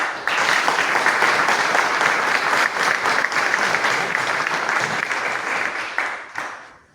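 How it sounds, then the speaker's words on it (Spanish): A large audience at a university history congress ceremony applauds steadily and loudly in a hall, a dense sustained wash of clapping that fades out near the end. "pido un aplauso"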